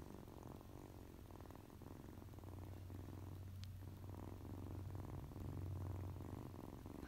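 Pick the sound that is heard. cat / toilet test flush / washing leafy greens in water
cat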